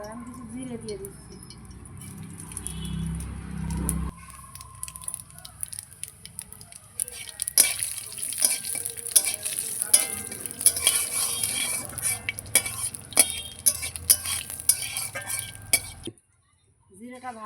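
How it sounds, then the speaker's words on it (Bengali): Cumin seeds sizzle and crackle as they fry in hot oil in a heated kadai, with a steady spitting hiss and occasional stirring clinks, heard over talking. "এবার আমি কিছু জিরে দিয়ে দিচ্ছি।"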